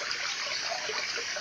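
River water flows steadily during mining prospection fieldwork in the DRC, a continuous soft broadband rush with no pauses, moderately quiet and alone without voices.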